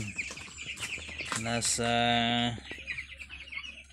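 Fourteen-day-old broiler chicks call in a farm pen with sharp peeps and clucking chirps, several close and fairly loud, while a person speaks briefly nearby.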